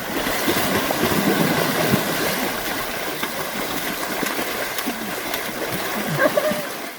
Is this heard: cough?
no